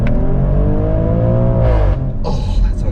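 Maserati Grecale Trofeo engine revving up loud and close, a steady rising roar with climbing harmonics, then a sharp blip and crackle near the end.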